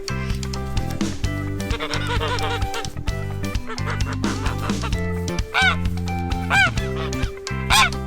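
Farm ducks quack in a busy, overlapping chorus close by, with honking geese among them and steady background music or droning underneath.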